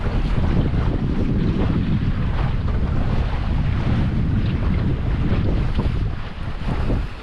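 A sailboat beats up the Sound of Mull in Scotland on an early morning, with wind buffeting close and loud and water rushing past the hull in a continuous roar that eases slightly near the end.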